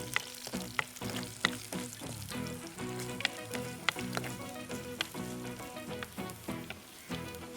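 Shallots and green chillies fry in oil in a pan with a steady, close crackling sizzle, dense pops scattered throughout and no voices.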